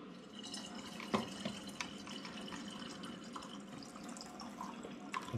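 Extra water poured into a bottle while diluting spirit down to about 20% for a Christmas schnapps spirit run in an air still, a steady close liquid trickle with a few drips, with no talking.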